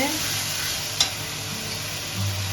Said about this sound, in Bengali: এখন ভালো করে মশলাটা ভাজা ভাজা করে নেব